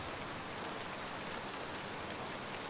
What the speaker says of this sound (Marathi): हा हा म्हणता तो रिपरिप पडणारा पाऊस आता मुसळधार पडू लागला होता